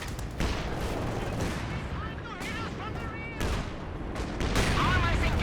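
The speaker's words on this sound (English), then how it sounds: "Long range Scott barrages here" M8 Scott artillery fires a long-range barrage in Company of Heroes 2, with repeated sharp booming blasts and rumbling explosions in quick succession amid battle noise, while a commentator talks over it.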